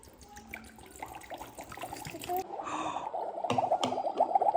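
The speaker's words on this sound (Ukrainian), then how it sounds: "Потрібно вилити колбу води в котілочок." Water poured from a small flask into a Magic Mixies toy cauldron, a close trickling splash that builds into a bubbling gurgle, with a voice talking over it.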